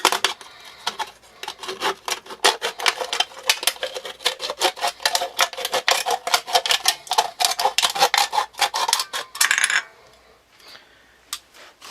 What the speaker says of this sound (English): So first of all, I cut this tin that size.